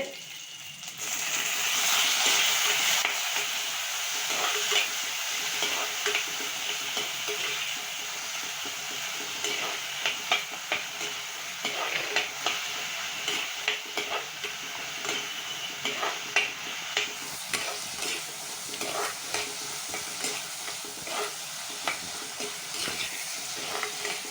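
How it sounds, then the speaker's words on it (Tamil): Small shallots and tomatoes sauté in a hot pan, giving a continuous sizzle broken by repeated scraping and stirring strokes, steady and close throughout. "வெங்காயம் தக்காளி நல்லா வதங்கிடுச்சு"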